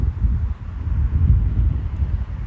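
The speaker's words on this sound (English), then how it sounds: "It's very windy today." Wind buffets the microphone in a steady low rumble, gusting unevenly with no other sounds.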